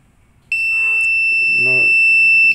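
A stopwatch timer alarm sounds as a timer finishes, a loud steady electronic tone starting abruptly and holding on, while a voice speaks briefly underneath.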